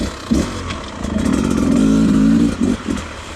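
A 2020 Beta 300RR two-stroke dirt bike on a trail revs up in a rising, buzzing drone, then gives a few short throttle blips. It is close and fairly loud and has no talk over it.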